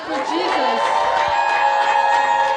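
A church congregation claps and cheers for Jesus, a dense, sustained roar of many voices, whoops and applause filling the room.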